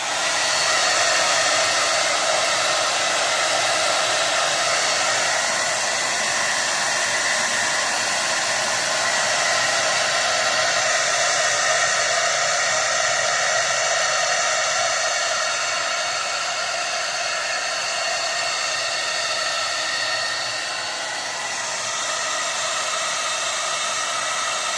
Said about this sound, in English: So I'm going to put on the blow dryer here for a bit,